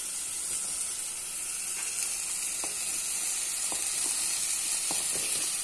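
Rice hits a hot pan and sizzles steadily while being stirred for a baked rice dish, a constant bright frying hiss broken by soft scrapes and small clicks, with no voices.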